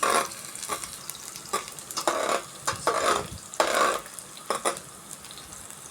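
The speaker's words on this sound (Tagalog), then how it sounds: "Pagka mainit na po ang mantika, lalagay po na natin ang bawang, sibuyas, at sili. Go. Haluin na po natin siya." Garlic, onion and chili frying in hot oil for chicken pastil, a close, crackling sizzle broken by repeated bursts of stirring and scraping against the pan.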